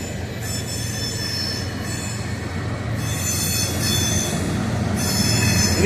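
Freight or passenger train rolling through Springfield, a continuous low rumble of railcars with high, wavering wheel squeals rising and fading over several seconds, close by and growing slightly louder toward the end, with no voices.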